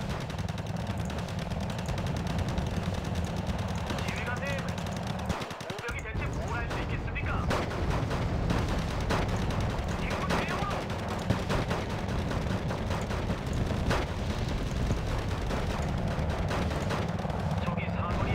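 Continuous gun battle in Wargame: Red Dragon, with machine-gun bursts, single shots and heavy booms of artillery layered into a dense, steady din, a brief lull partway through, and a voice talking now and then.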